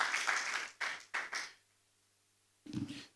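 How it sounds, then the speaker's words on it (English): Audience clapping at a retail-centre conference panel in East Africa as speakers come up, with bursts of hand claps that break off into a quiet gap before another short patter of applause resumes. "Let's clap for them as they come up"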